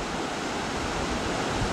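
A shallow river runs over rocks beside a covered bridge near Lincoln, New Hampshire, giving a dense, steady rushing roar that fills the whole moment without any speech.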